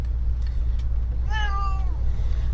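A house cat gives one clear, drawn-out meow, near and distinct, over a steady low background hum, with no talk.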